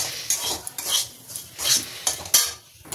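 A spoon scrapes and stirs semolina as it dry-fries in a pan, producing a quick series of close, rhythmic metallic scrapes with a faint underlying sizzle.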